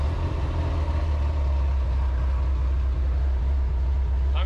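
A Ferrari 348 engine with an aftermarket exhaust idles with a deep, steady exhaust rumble, close by and continuous, without any voices.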